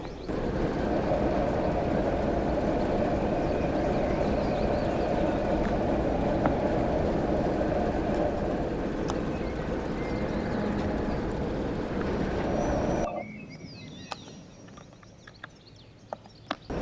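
A simulated train rumbles steadily over a three-way point on a Somerset line in Train Sim World, a dense droning roll that drops away abruptly near the end, leaving quieter ambience with a few small clicks.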